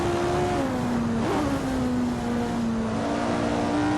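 Lotus 49 race car in Assetto Corsa, its engine howling steadily at high revs with a brief dip and rise in pitch as it shifts, continuous and close throughout.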